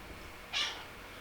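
A single short meow from a house cat, faint and somewhat distant, rising briefly out of quiet room tone with no talking.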